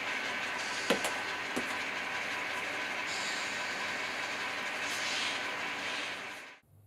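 An N scale model train runs along a layout in a steady, even rumble, with a couple of brief clicks near the start and the sound cutting off abruptly at the end.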